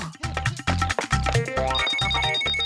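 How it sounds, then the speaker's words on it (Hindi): A phone rings with a repeated electronic ringtone, a bright, loud trilling melody pulsing in quick bursts, heard alone and close. "तुम्हारा फोन अभी ही बजना था"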